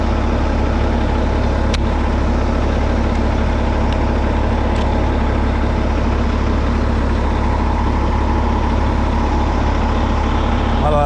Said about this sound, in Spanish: aquí ya arranqué el camioncito